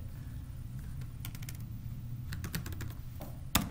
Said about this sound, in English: And if you would please type in Brandon Wyatt.